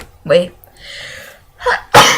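A person gives one short, sharp sneeze after brief talking, with a single spoken word before it.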